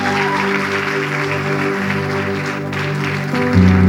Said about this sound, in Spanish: aplaude bien fuerte mientras yo tomo un poquito de Gatorade